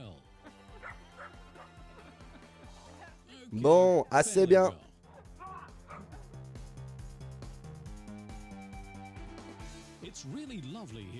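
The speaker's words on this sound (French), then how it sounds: "Avec le chien Belay, ça marche déjà bien." A sled team dog on a snowy winter run yips and whimpers throughout, with a louder burst of barking near the middle. The sounds are mixed with talk and other background sound.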